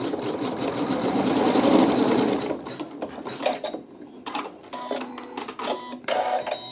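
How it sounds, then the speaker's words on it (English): A sewing machine stitches a seam on a quilt block, first in a fast, steady whirring run and then in shorter stop-start bursts, close and clear with no talk. "And we'll let it stitch the seam."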